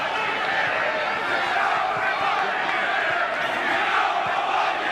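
Rugby league stadium crowd at a Salford versus Widnes match giving a sustained, loud roar of disapproval, a dense wash of many voices with no clear breaks across the whole stretch.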